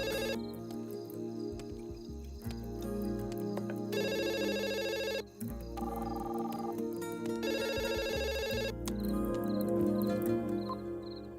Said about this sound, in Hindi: लैंडलाइन पे फोन करो ना, लैंडलाइन पे, वो स्विच ऑफ नहीं होगा।